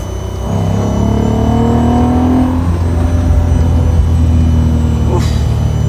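R32 engine of a Golf 5 or Audi TT pulling hard under acceleration, a loud, close, sustained rumbling drone with a rising tone, heard from inside the car.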